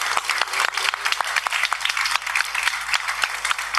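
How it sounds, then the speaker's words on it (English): Audience applause for volunteers at the 2024 WFF Youth Food Lab finals, a room full of steady, sharp clapping that carries on at an even level throughout. "A round of applause to the volunteers as well."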